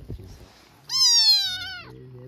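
A cat lets out a single loud, drawn-out meow close by, with brief faint voices before and after it.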